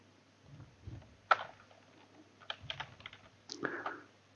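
Someone types on a computer keyboard in short irregular bursts of clicking keys, close and fairly quiet, with gaps between the flurries.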